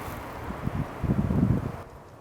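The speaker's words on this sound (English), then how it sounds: "good thing it's windy out here" Gusty wind buffeting outdoors, rising and falling in low rumbling bursts before dropping away near the end.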